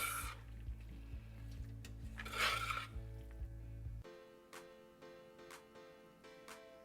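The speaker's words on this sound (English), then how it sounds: "And then we're gonna give it a nice, loving toss." Pasta with crumbled sausage, caramelized onion, Parmigiano and parsley is tossed in a pan, with soft stirring, faint scraping and a few light clinks, quiet and close, with no talking.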